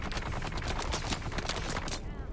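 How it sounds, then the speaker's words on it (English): Machine gun fire in the video game Dune: Awakening rattles in rapid, loud overlapping bursts and stops abruptly near the end. "These machine gunners are brutal."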